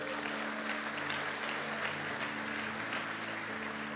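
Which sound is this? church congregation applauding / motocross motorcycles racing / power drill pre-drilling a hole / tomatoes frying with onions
church congregation applauding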